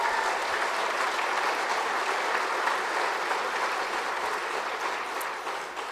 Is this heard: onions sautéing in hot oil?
no